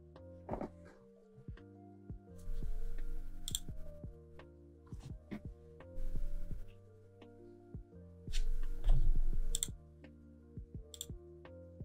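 Mouse clicks sound repeatedly while a Git installer is run on a Windows computer, sharp close ticks spread irregularly through the passage, some in quick pairs, over steady background music and broadband swells.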